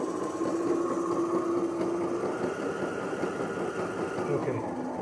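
A fuel-less self-running generator's alternator hums steadily and close by, a constant machine drone with a faint tonal whine that holds even for the whole stretch, no one speaking over it.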